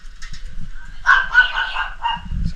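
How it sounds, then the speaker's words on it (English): A fierce guard dog barks at a roadside mechanic's in Valladolid, Mexico, sounding as a few harsh, loud barks close by, with street noise and a brief rumble afterward. "they're getting attacked by a guard dog"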